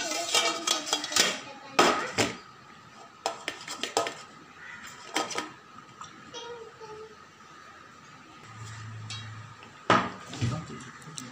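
A metal cake pan holding a homemade wheat cake is flipped and tapped in a kitchen, giving scattered clanks and knocks at varying loudness, with quieter clatter in between.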